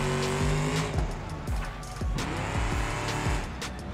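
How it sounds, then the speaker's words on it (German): A car drifts in a racing video game steered with a wheel, its engine whining with shifting, sliding tones and tire squeal through continuous revving, no talking. "Schöner Drifterino hier"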